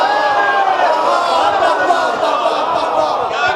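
A majlis audience raises the Nara-e-Haidari slogan together, a loud, dense crowd chant of many voices filling the hall continuously.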